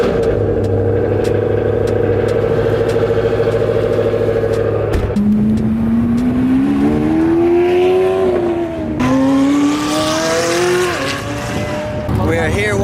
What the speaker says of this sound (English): Oh, of course, Chris is revving it up.